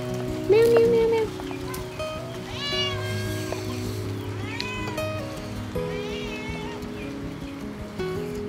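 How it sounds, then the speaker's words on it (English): A cat meows several times in a row, drawn-out mews over steady background music and a soft patter. "Meow, meow, meow, meow."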